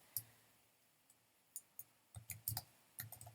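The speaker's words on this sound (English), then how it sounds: "you can see as I was typing there" Typing on a computer keyboard: quiet, close, irregular key clicks, first sparse and isolated, then quicker clustered bursts, with no talking.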